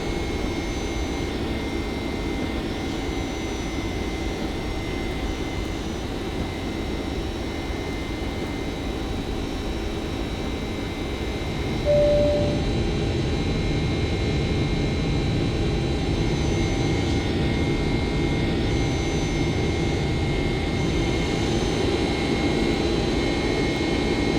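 Jet engines of a Flight Factor Boeing 767 climbing in the X-Plane flight simulator, giving a steady, loud, continuous cabin roar and whine that holds constant for the whole stretch, with no voices.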